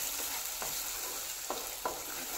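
Eggs stirred and broken up for egg bhurji in a frying pan over a medium flame, a constant sizzle with several soft scraping strokes of the spatula standing out, close and alone without voices.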